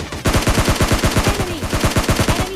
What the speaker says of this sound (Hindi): देखो वो हमको फायरिंग कैसे करते हैं